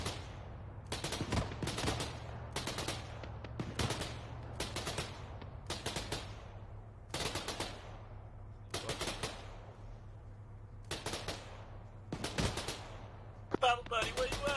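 Gunfire in the Arma 3 military simulation game during a milsim operation: sharp bursts of automatic fire crack out roughly every second, loud and near, with brief gaps of quieter background between volleys.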